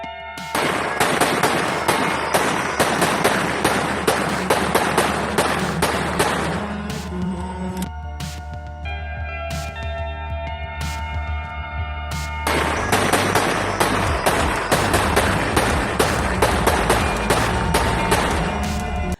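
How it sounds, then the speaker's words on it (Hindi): Dense bursts of gunfire shot into the air at a Taliban victory rally, rapid crackling volleys of many shots with fireworks mixed in, loud and sustained with a brief thinner lull in the middle. "आतंकियों ने हवा में खूब गोलियां चलाई"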